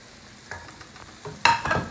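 Chopped nutmeg drops into hot oil for a nutmeg pickle, giving a faint hiss that jumps into a sharp, close sizzle near the end of the short stretch.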